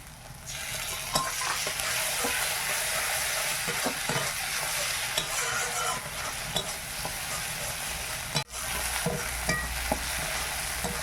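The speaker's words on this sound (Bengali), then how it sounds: "আদা রসুন ভালোভাবে ভাজা হয়ে গেছে" Ginger garlic paste sizzles softly in a pan of fried onions for a village chicken curry, with intermittent stirring scrapes and taps, fairly quiet and close, a brief dip near the end, no voices.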